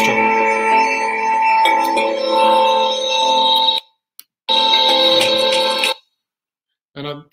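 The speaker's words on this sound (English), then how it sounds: "My next movie shows you a sound wave developing in a galaxy cluster" Sonified pressure wave from the Perseus galaxy cluster, heard as sustained eerie tonal drones with layered harmonics, loud and steady, breaking off briefly around the middle before resuming and ending in a short final burst.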